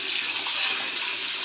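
Water runs steadily into a washing machine at home before a load of blankets is washed, a constant broadband rushing with no breaks and no talking.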